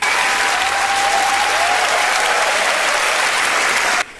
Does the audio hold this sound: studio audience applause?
yes